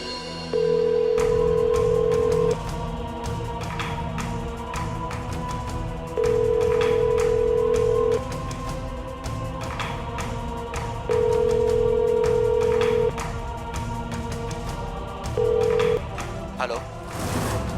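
A telephone ringback tone repeats four times in steady two-second bursts, with conversation and background noise continuing underneath.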